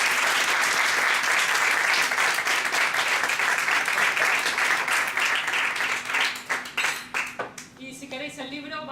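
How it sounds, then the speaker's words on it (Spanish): Audience applause at a Spanish book presentation, steady dense clapping filling the room for several seconds before thinning into scattered individual claps near the end. "Yo creo que se merece un aplauso."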